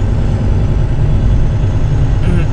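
Steady low road-traffic rumble on I-85 North, heard from inside a truck, a continuous loud engine drone with no distinct passing vehicles.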